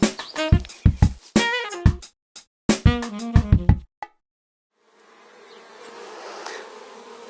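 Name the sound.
honeybees flying at beehive entrance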